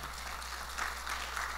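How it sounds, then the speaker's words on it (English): A church congregation claps hands at a sermon, heard faint and distant as a soft, continuous patter over a low electrical hum. "Let's give God a hand clap."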